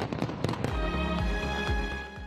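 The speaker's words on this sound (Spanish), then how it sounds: "los edificios sirvieron para lanzar fuegos artificiales" New Year fireworks launched from Hong Kong buildings crackle and boom in a dense burst of rapid bangs followed by rolling low thuds, loud and continuous over a couple of seconds.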